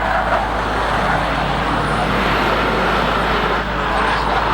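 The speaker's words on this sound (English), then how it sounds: "WRX making his way around the hairpin" Subaru WRX Impreza rally car rounding a hairpin at a hillclimb, its engine a steady, loud drone throughout with no clear gear changes or pops standing out.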